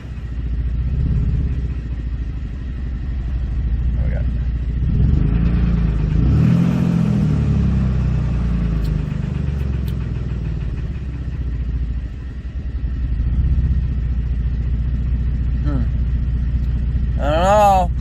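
A 2007 Dodge Nitro with low oil pressure idles up close in a garage with a steady rumble, then revs higher around the middle before settling back. Someone speaks over the engine.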